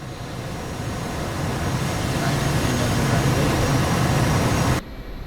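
F/A-18C Hornet jet landing in a flight simulator: a loud, steady broadband engine roar that holds evenly for several seconds, then cuts off sharply near the end, leaving a quieter residual hum.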